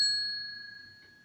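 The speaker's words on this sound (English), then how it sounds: "But if you get the perfect bell ring" A single ring from a metal ring-for-service desk bell gives a bright, clear ding that hangs and slowly fades, heard alone in a quiet room.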